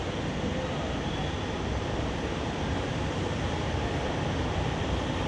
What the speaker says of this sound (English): this train is a little bit different than the MRT, but pretty smooth